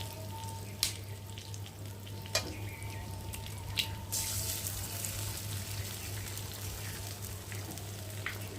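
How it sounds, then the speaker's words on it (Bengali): An egg cracked into hot oil in a pan, with potato pieces pushed to one side, for a pointed-gourd dish: a quiet, steady sizzle broken by a few sharp taps, over a low constant hum, with no talking. "আর এর মধ্যে এখন আমি ডিমটাকে ফাটিয়ে দেবো"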